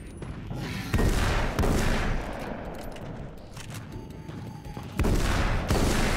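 The boomstick shotgun fires in the Alan Wake's American Nightmare video game, with loud, close blasts whose dense roar carries between shots, set against continuous game noise.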